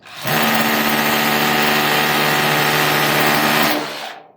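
An SDS hammer drill bores into concrete to set concrete anchors, giving a loud, steady, close-up buzzing whine that starts abruptly, holds constant for about three and a half seconds, then cuts off and trails away.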